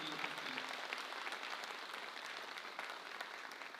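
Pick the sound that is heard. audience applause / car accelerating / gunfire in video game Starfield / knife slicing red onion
audience applause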